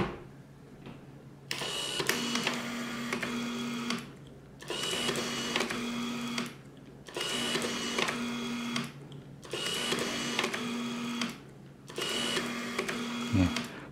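A Nikon D800 and D4 drive a 60mm macro lens with the autofocus motor, giving five evenly spaced whirring bursts of about two seconds each, separated by short quiet gaps, close and steady.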